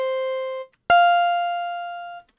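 Two notes from an FM synthesis chiptune patch imitating an electric jazz guitar ring out alone. The first holds briefly and stops, and the second, higher one is plucked sharply and fades slowly.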